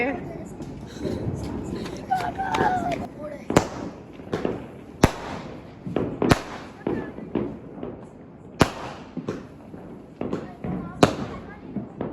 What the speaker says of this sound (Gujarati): જીણકા છોકરાને વારે ફટાકડા ફૂટી રહ્યા છે